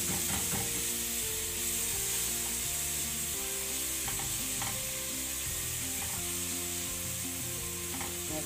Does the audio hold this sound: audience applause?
no